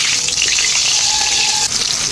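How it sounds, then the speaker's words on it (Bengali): Potatoes fry in hot mustard oil in a kadai, a loud, close, constant sizzle that dips briefly near the end as if the pieces are shifted; nobody speaks. "তেল গরম হয়ে গেছে, আলুগুলো আমি ভেজে নেব।"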